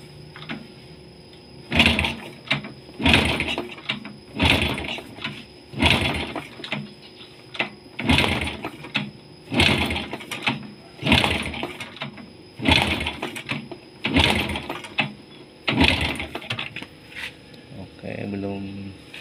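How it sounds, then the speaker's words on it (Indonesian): An old Honda Supra motorcycle that has sat unused for a long time is kick-started repeatedly without firing, giving about ten evenly spaced, loud mechanical strokes roughly every second and a half. "Sekarang coba kita engkol."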